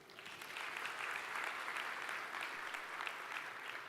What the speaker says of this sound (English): we now welcome that applause